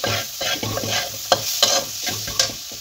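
A spatula stirs a banana flower mixture with sugar in a frying pan, scraping in a steady repeating rhythm over continuous sizzling, with a few sharper clacks against the pan.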